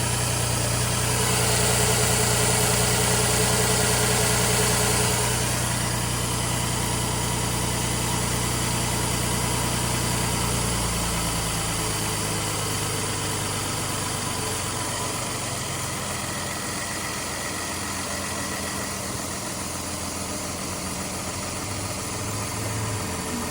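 Steady idle of the 3.3L V6 engine in a 2020 Ford Explorer Hybrid, a continuous low rumble and hum that holds up close and loud, easing slightly after the first several seconds.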